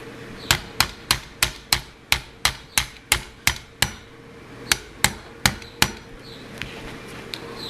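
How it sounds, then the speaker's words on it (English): Hammer taps lightly on a thick Allen wrench to drive a small part out of an A&K SPR airsoft rifle, a dozen sharp metallic knocks in steady rhythm, then a few more spaced strikes, close and alone. "I'm just going to put it right there, and you just tap it lightly with a hammer"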